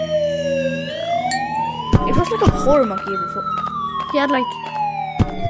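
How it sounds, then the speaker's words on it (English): A wailing police siren in the VR game Capuchin rises and falls loudly throughout, with a person talking over it and sharp clattering hits in between. "Police sirens."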